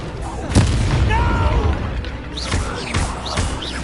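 A Confringo blasting-curse explosion in the Hogwarts Legacy video game, a booming blast set among spell whooshes and combat effects, with character voices calling out spells.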